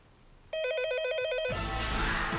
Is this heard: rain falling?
no